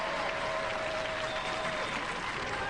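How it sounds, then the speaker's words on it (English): A studio audience at a Robot Wars robot-combat show gives a dense, even round of applause that holds steady throughout. "Give them a round of applause!"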